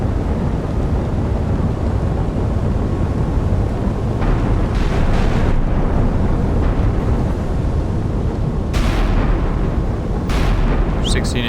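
Naval gunfire and shell hits on the battleship Iowa in Sea Power, a continuous heavy rumble of big guns and explosions with sharper blasts rising above it now and then.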